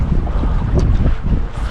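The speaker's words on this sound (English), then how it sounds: "This wind is really taking the life out of me." Strong wind buffets a fishing boat on a big river below a dam, making a loud, low, gusty roar that rumbles against the microphone for the whole short stretch, with no one speaking.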